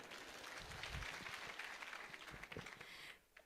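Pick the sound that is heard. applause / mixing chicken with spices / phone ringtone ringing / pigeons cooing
applause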